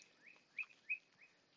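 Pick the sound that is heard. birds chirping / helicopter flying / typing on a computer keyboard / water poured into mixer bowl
birds chirping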